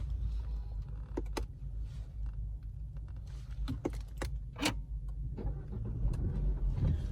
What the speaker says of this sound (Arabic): دور كده العربيه على السريع